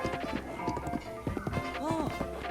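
Horse hooves clip-clopping in the Zelda: Breath of the Wild video game, a steady run of trotting beats over game music, with a brief whinny-like sweep near the end.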